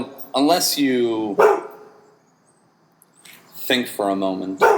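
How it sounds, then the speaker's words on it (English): A dog barks outside in a few quick yips, heard close against a person talking over it. "that was just a dog"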